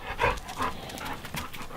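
Dogs panting in quick, breathy bursts close by just after being checked over for injuries, with a couple of louder huffs standing out against a quiet background.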